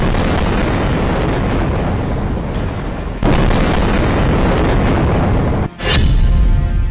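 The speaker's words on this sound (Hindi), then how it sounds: "इजराइल के हमलों में फिर कांप उठा गाजा।" Israeli airstrikes in Gaza send out loud, dense rumbling blasts, a continuous roar broken by a sharp new explosion midway and another heavy boom just before the end.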